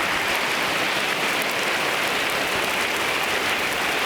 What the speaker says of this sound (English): Nowhere, it's raining.